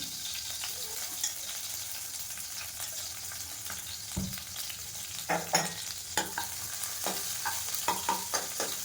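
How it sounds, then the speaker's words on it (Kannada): Green chillies and crushed garlic fry in hot oil for ragi mudde bassaru, a steady soft sizzle with scattered sharp scraping and tapping of a spoon against the pan growing busier toward the end, close and without speech. "ಎಣ್ಣೆ ಕಾದಿದೆ ಇವಾಗ. ಸೊ ನಾನು ಹಸಿಮೆಣಸಿನ್ಕಾಯಿ ಹಾಕಿದ್ದೀನಿ."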